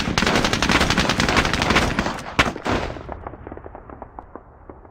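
Rapid machine gun fire from a tank in Squad Battles Eagles Strike, assaulting Omaha, rattles in loud continuous bursts, then thins into sparser, fainter shots trailing off.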